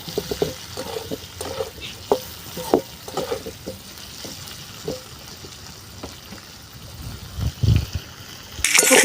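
Steamed cauliflower florets fry in hot oil, sizzling and spitting at close range while a spatula stirs and scrapes the pan in irregular bursts.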